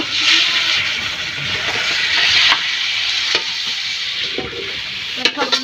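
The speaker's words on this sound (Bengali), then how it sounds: "আলুই ঢেলে দিছি" Potatoes hit hot oil in a pan with a loud burst of sizzling that settles into steady, close frying hiss, broken by a few stirring scrapes and clinks near the end.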